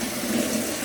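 Water pours steadily into a container during a short indoor burst, a continuous rushing fill with no talk over it.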